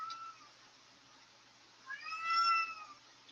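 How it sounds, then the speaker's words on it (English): A cat meows from inside a kennel in a drawn-out, wavering cry that swells midway through, sounding fairly close against a quiet background. "And you can probably hear my cat crying."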